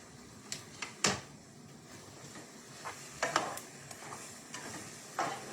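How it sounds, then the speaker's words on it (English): Shrimp coated in spices being stirred in a single pot for Cajun jambalaya, with scattered scraping strokes and a light clack or two over a faint sizzle, fairly quiet and close. "Mix this up so that way all my spices gets on all my shrimps."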